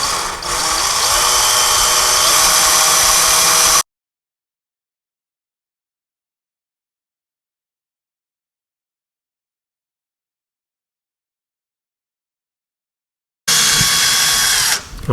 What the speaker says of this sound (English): I'm going to pre-drill the holes that's going to the shelf